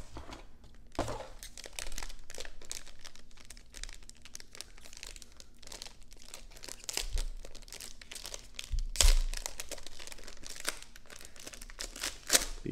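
Plastic wrapping on an autographed limited-edition trading card box crinkles and crackles steadily as it is opened, close and fairly quiet, with a few sharper crunches and soft thumps along the way.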